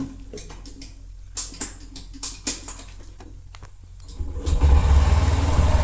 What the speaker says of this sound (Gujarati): તો ગાડી કરી દઈએ સ્ટાર્ટ